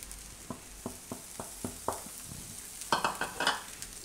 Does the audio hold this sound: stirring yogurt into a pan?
yes